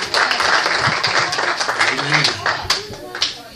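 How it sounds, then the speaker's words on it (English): A church congregation at a Wednesday night service claps for the keyboard and drum musicians, a steady, dense, close round of applause with a voice calling out briefly over it before it thins near the end. "Let's give them a hand clap"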